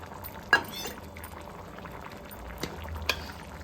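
Soft bubbling of a thick mutton curry simmering in a pot, with a few faint clinks of utensils, quiet and close.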